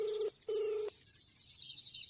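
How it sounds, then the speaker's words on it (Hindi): A telephone being dialed: two steady keypad tones, each held for about a third of a second with a short gap between them, clear and close, with faint high chirping running through. "मैंने फिर से कॉल लगाया।"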